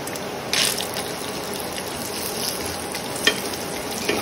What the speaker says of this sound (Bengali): ঘিয়ের মধ্যে কাজু বাদাম একটু হালকা করে ভেজে নেব।